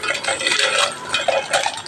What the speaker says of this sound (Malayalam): ഇനി വറുത്ത് വെച്ച് മുളക് മിക്സിയുടെ ജാറിലേക്ക് ഇട്ട് കൊടുക്കാം.